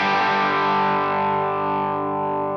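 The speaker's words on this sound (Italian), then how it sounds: "Ho girato l'ISF verso l'American." A single distorted electric guitar chord through a Blackstar Series One Mk II amp with the ISF turned toward American, ringing loud and close, then decaying steadily.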